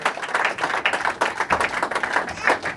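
A church congregation at a wedding in London applauds to welcome the pastor, bursts of clapping rising and falling in an uneven rhythm over a few seconds, with voices mixed in among the applause.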